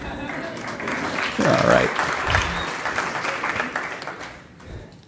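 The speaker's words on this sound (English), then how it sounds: "feel free to give your applause." A conference audience claps through a sustained round of applause for a panelist, with a brief spoken remark from the presenter over the clapping.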